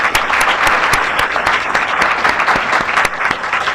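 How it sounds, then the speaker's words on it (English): An audience at a corporate roundtable applauds its panelists and moderator with a close, loud burst of clapping in which individual sharp claps stand out from the steady wash. "I want you to join me this afternoon in applauding our panelists and our"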